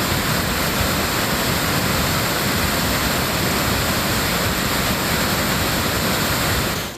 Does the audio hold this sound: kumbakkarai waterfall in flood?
yes